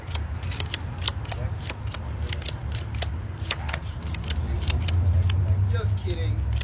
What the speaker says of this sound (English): These are the standard deck of playing cards, a spineless book without words that nearly everyone has in their home.